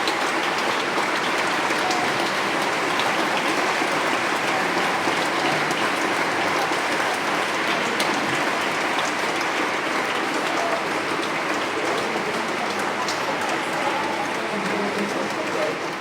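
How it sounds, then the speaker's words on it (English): Sustained audience applause after an opening keynote at a re:publica 2024 conference, a dense, steady wash of clapping from a large crowd that holds evenly for the whole stretch. "A deserved applause."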